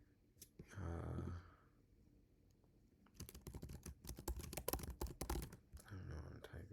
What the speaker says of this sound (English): I'm typing this, bro.